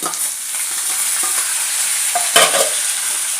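Mashed potato and peas being stirred in a frying pan while cooking samosa filling, with a steady scraping stir over a soft sizzle, close and continuous without any talking.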